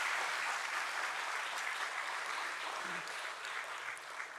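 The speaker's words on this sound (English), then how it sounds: "let's give a thunderous applause" A large crowd at the JSW Infrastructure stock listing ceremony claps steadily and continuously throughout, a dense, even wash of applause heard from some distance.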